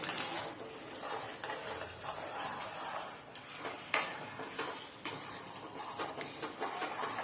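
Paneer curry gravy with Kashmiri chilli is stirred in a pan as the oil starts to separate. A spoon scrapes in steady strokes with a few sharp metallic knocks over a constant sizzle, close and with no talk.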